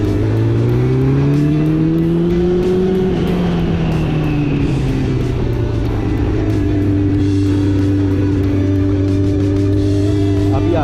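A Honda CB400 Super Four four-cylinder motorcycle with VTEC runs loud and close, its engine pitch climbing as it revs through a gear, dropping back, then holding a steady high drone while riding.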